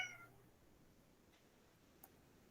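A cat gives one short, faint meow indoors right at the start, followed by quiet room tone and a small tick near the end.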